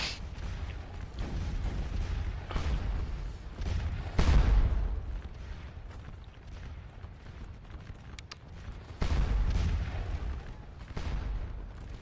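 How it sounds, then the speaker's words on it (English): Canister artillery booms across a Napoleonic battlefield in the Waterloo battle game, with two heavy thuds standing out over a constant low rumble of distant gunfire and crackling musketry. "I can hear some canister going off."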